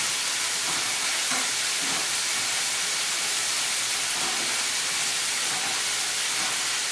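Food fries in sesame oil in a pan, giving a steady, dense sizzle and hiss that runs unbroken for several seconds, with faint clinks and stirring noises now and then.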